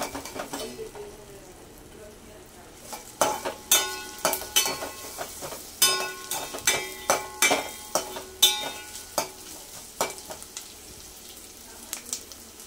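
Chopped onions frying in a pan for a potato and peas kurma, a steady sizzle under repeated sharp scraping and clinking of a spoon stirring against the metal, strongest through the middle stretch.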